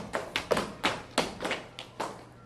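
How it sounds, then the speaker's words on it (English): Loud knocking on the ground, a string of about eight sharp taps and thumps at an uneven pace, close and distinct, with no talking over them. "Then the seeds heard a loud knocking on the ground."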